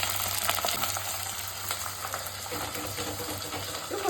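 Green chillies fry in a pan of sambar with drumsticks, a continuous close, even crackling sizzle with faint stirring scrapes throughout and no talking.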